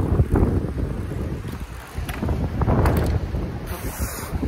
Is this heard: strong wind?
yes